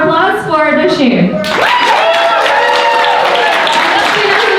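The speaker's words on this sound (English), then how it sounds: "now we're gonna have a round of applause for Noshim." A crowd at a Video Hack Day closing session claps for dancer Noshim. Loud, continuous applause swells in after a brief moment of speech and holds steady, with voices and cheering mixed in.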